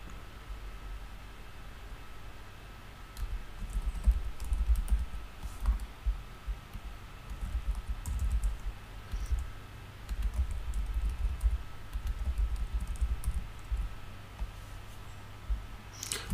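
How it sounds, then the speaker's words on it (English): Soft, irregular computer keyboard typing in bursts over a low background hum, fairly close, with no voices. "How noticeable are the typing sounds, by the way?"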